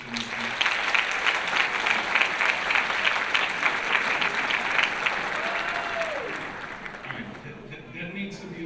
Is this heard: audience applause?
yes